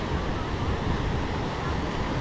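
Ocean surf rolls in at Kata Beach in Phuket, a dense, constant wash of breaking waves mixed with wind buffeting the microphone, steady and loud throughout.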